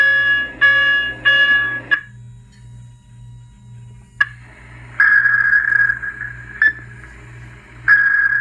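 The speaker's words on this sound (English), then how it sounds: "Sound the general alarm." A general alarm sound effect plays from an RC submarine's onboard sound system. Loud repeated electronic tones start with quick stacked beeps, then after a pause come longer sustained buzzing blasts broken by brief clicks, heard alone over a faint steady hum.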